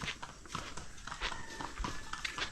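A horse's hooves clip-clop in a quick, irregular rhythm on an outdoor rural path, fairly faint amid background noise.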